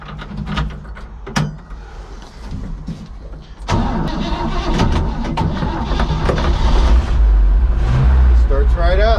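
A 1959 Chevy Apache Napco 4x4 truck engine cranks with irregular clunks and bursts, then catches at about four seconds and settles into a loud, steady, close running rumble, with people talking intermittently over it.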